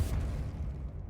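A spell cast in the Hogwarts Legacy video game lands as a single low booming burst that starts hard and fades out over about a second, with no talk over it.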